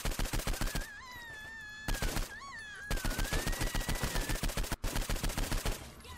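Rapid automatic gunfire from a weapon in Saints Row IV, rattling in sustained bursts with short pauses, up close and loud, with whining tonal game effects layered over the first half.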